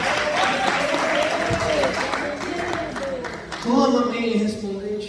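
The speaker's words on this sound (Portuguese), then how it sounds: "Bate uma salva de palmas e louva o nome do Senhor Jesus." Church congregation clapping and applauding together, a dense steady wash of hands mixed with voices and singing-like tones throughout, swelling briefly near the end.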